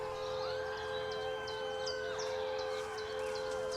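A steady wailing siren drones on at moderate distance in a quiet outdoor scene, holding its tone throughout while faint birds chirp in the background.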